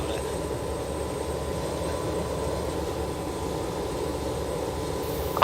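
Engine number three of a BAe 146 jet in X-Plane 11 spools up as a steady, even drone with a low rumble and faint high whine, holding constant throughout.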